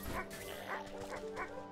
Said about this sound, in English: The dog is adorable.